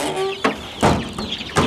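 Chickens in a backyard pen, a mixed flock of Somalis, turkeys and buff Orpingtons, giving a few short, sharp clucks spaced about half a second apart, close to the microphone.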